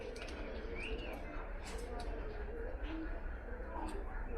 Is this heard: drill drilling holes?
no